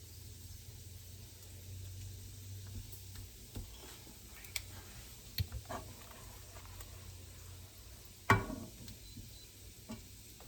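Bacon sizzles in a pan on a stove, a faint steady crackle with scattered soft ticks and a sharper clink near the end, with no talking.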